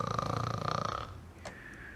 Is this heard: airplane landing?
no